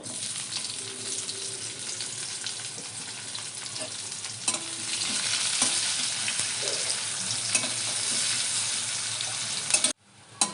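Chopped onion frying in oil with bay leaf, cumin and dried chilli makes a close, steady sizzle with light stirring scrapes and a few clicks. The sizzling cuts out near the end.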